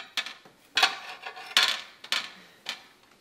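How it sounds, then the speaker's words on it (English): A knife chops peppers on a cutting board while cooking a whitetail deer recipe, giving five or six sharp, separate cuts in an uneven rhythm, close and moderately loud, with no talk. "Tristan is cutting up the peppers, chopping up the peppers"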